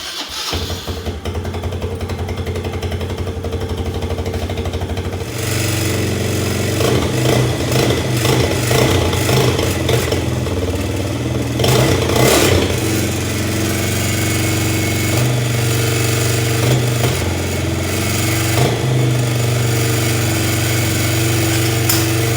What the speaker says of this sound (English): We took off the little extra part of the muffler here, so it has a little bit more of a throatier sound.